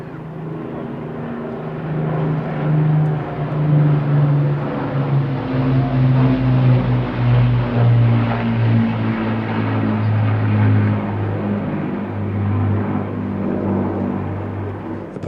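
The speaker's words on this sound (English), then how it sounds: "the formation splits into 2 pairs, Spitfires and Lancasters" Spitfire and Lancaster warbirds fly past at the Eastbourne airshow, a sustained loud piston-engine drone with steady low harmonics that swells and holds throughout.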